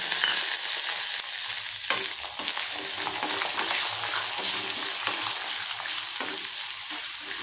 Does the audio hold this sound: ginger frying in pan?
yes